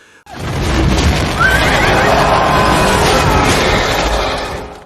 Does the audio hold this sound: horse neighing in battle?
yes